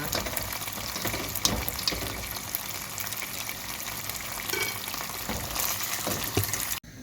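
Butter melts and fries in a hot pan, a loud continuous crackling sizzle with occasional stir scrapes that cuts off abruptly just before the end.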